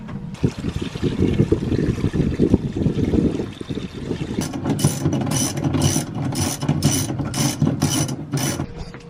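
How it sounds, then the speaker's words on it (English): A hand pump works diesel out of the center fuel tank of a disabled sailboat with contaminated fuel, a loud mechanical clacking and gurgling that turns into a rapid, regular ratcheting stroke rhythm in the second half. "I've pumped as much diesel as I can out of this center tank."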